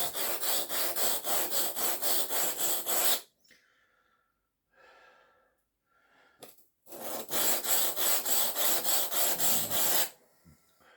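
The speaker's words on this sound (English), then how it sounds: "Can you hear them stones? They're really harsh" Harsh, rhythmic rasping strokes of an Aurillac knife blade drawn repeatedly across whetstones, close and loud, in two long bursts separated by a quiet pause.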